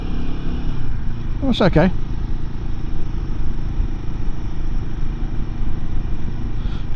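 A 2024 Royal Enfield 450 Himalayan engine rumbles steadily in 4th gear at about 30 mph, low and continuous, while a rider briefly speaks over it.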